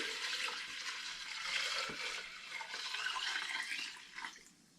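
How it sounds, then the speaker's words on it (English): Distilled spirit from an Air Still Pro pours from one large jug into another holding water and Still Spirits Shamrock Whiskey flavouring. It makes a continuous close splashing and gurgling that swells, then thins out and stops near the end. "Let the spirit meet the water and the flavouring."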